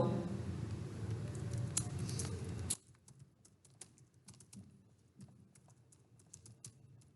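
Keys clatter on a computer keyboard in quick, uneven bursts of soft clicks, close by. A louder background hum stops after a few seconds, leaving the typing almost alone.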